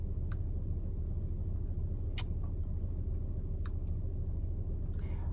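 Steady low road rumble inside a moving car, continuous and fairly loud, with a few faint clicks and ticks over it.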